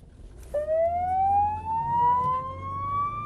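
A police car siren winds up sharply and holds a rising wail while racing toward a car fire with trapped children, loud and close over low road rumble.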